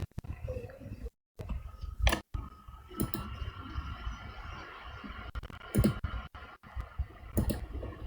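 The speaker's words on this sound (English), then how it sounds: "So to duplicate, I'll Control D on the keyboard." Control D pressed on a computer keyboard, sparse sharp clicks spaced across the stretch with quiet gaps between them, close and fairly crisp.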